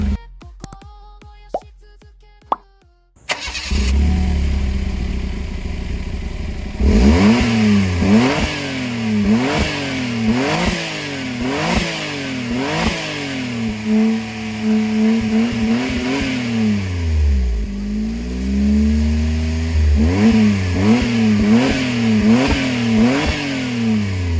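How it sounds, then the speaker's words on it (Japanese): A Suzuki Wagon R MH21S with a replaced turbo and an aftermarket Kakimoto muffler on a stock mid-pipe cranks and starts after a few quiet clicks, then settles to idle and revs repeatedly in sharp rising and falling blips, close and loud. "ちょっとマフラーの音を聞いてみましょうか。"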